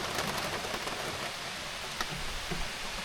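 Steady rain falls outdoors in a broad, dense hiss, with occasional louder drops and soft low rumbles beneath.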